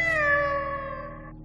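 A single drawn-out cat meow, close and clear, its pitch sliding gently downward as it fades after about a second and a half.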